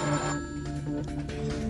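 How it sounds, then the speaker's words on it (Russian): A telephone rings in a TV drama scene, its bell-like tone repeating steadily for under two seconds with faint background sound underneath. "Телефон."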